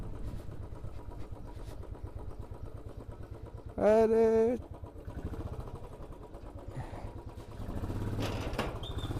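A motorcycle engine idles with a steady low chug as the bike is parked outside a shop, with a loud horn-like tonal burst midway and a short spoken exclamation.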